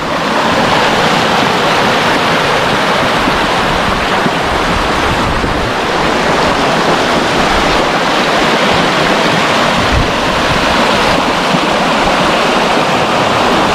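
Mandwa Waterfalls in Bastar, Chhattisgarh, roars loud and close as a dense, unbroken rush of heavily flowing water that fills the whole stretch.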